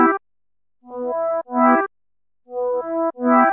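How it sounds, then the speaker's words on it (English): A dry synth preset, 108 Serenity Now Jomal with slow attack and two-voice unison, plays a repeating phrase of swelling harmonic chords in two pairs, clear and close with no effects. "It is the 108 Serenity Now Jomal preset."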